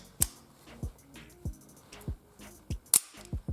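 Ruger SR22 .22 pistol being handled and checked clear, sharp metallic clicks and clacks spaced about every half second, close and distinct with quiet gaps between them.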